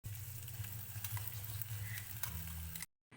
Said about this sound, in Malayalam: അപ്പോൾ ചൂടായ വെളിച്ചെണ്ണയിലേക്ക് ഞാൻ ഇട്ട് കൊടുക്കുവാണ്.